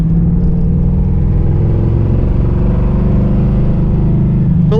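A 1985 Chevrolet Monte Carlo accelerating on the road, heard as a loud, continuous engine rumble with a steady low drone and road noise, with no talk throughout.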